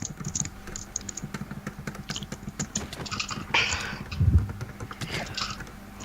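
Rapid clicking of a computer keyboard, fast irregular keystrokes with brief pauses, close by and moderately loud, with no one talking.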